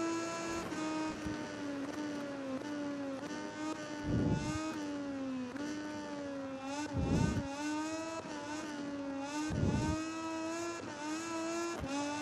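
A Moto2 motorcycle engine in MotoGP 19 whines at high revs, rising and falling steadily through gear changes as it races around a track, loud and continuous.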